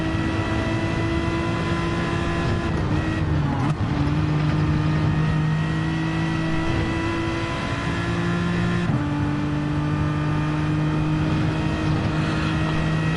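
A race car engine drones steadily through a lap in Gran Turismo 7, a Manufacturers Cup World Series race, with loud, continuous tones that shift pitch at gear changes and corners.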